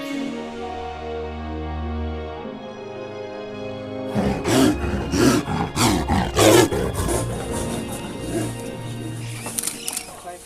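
A rescued Siberian tiger being released into the forest lets out a burst of loud, rough roars and grunts, following a stretch of music and with voices partly mixed in.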